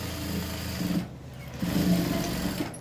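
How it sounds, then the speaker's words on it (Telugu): A sewing machine stitches blouse pieces together, its steady mechanical whirr running close and loud, pausing briefly midway before resuming, with no talking. "ఇక్కడ నుంచి స్ట్రైట్గా ఈ మార్కింగ్లోకి కలిసేలాగా కుట్టు అనేది వేసేసుకోండి"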